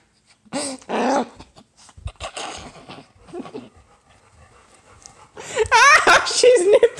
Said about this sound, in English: Why are you growling at me?